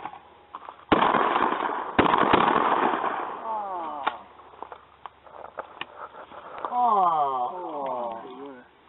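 Shotgun blasts at an outdoor skeet shooting session, two loud sharp reports close together near the start, followed by voices talking and laughing.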